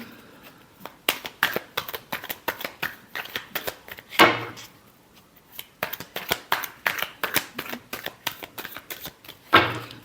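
Tarot cards are shuffled by hand in close, crisp bursts of rapid flicking and riffling, separated by short pauses.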